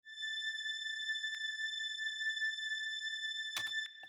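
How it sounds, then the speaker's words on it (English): A single high synth string note on an A, from a string VST, holds steady and bright for several seconds, with a brief noisy blip partway through and a short burst of noise near the end. "the last like melodic element that I have is just this high string"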